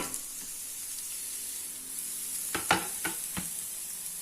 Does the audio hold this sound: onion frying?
yes